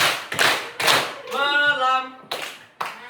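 A classroom of pupils claps together in the 'tepuk pagi, siang, malam' clapping game: sharp group claps land in short rhythmic bursts, broken by a stretch of voices chanting the words between them.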